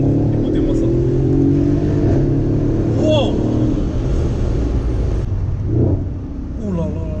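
A Mercedes S63 AMG Coupe fitted with an Akrapovic exhaust roars through a loud, sustained rev with deep engine drone, heard from inside the car, while occasional faint speech sits beneath it.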